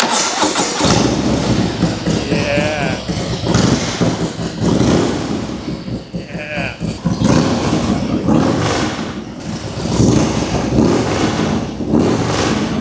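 A Harley-Davidson hot rod chopper with chrome pipes fires up and revs, its loud, close engine roaring in repeated surges and dips over idle, with a brief voice near the end.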